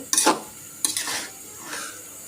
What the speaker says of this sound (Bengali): এখন এটা আমি সুন্দর করে নাড়াচাড়া করে দিব। আর চিজটা গলে যাবে।